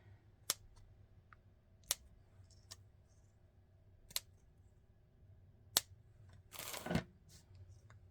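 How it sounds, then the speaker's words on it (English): Scissors snip through decorative paper for handmade flowers, a few sharp, isolated clicks spaced irregularly across a quiet room, followed by a brief rustle of paper. "And I need scissors so we could use some of these pretty things."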